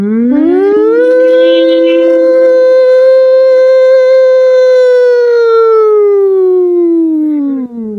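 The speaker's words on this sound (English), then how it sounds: "The tornado sirens." A tornado siren wails loud and close, its tone rising into a long sustained howl that holds for several seconds before slowly falling away.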